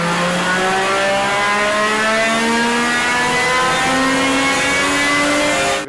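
A Gordon Murray T50's Cosworth 3.9-litre V12, capable of 12,100 rpm, revs loudly and alone, its pitch climbing steadily through the gears in a smooth, high-pitched wail.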